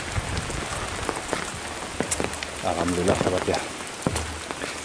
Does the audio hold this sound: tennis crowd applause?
no